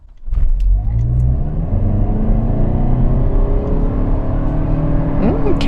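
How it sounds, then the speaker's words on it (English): A 2025 Toyota Camry XSE hybrid launching hard from a stop in sport mode, wheels briefly spinning: a muted engine drone rising steadily in pitch with road and tire rumble, close and continuous inside the cabin. "I definitely spun the wheels a little bit from the jump, and it was a quiet acceleration"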